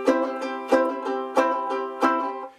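Ukulele chords strummed in a steady rhythm, four bright downstrokes about two-thirds of a second apart, each ringing into the next with wrist rotation shifting the emphasis between low and high strings, played close and alone.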